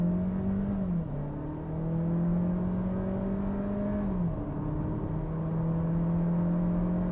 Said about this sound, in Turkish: Bakın hızlanıyorum.